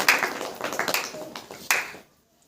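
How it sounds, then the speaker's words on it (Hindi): A church congregation claps hands together during a Hindi-language worship meeting, a series of sharp, irregular claps ringing out for about two seconds before stopping abruptly into near silence. "ताली बजा करके परमेश्वर की"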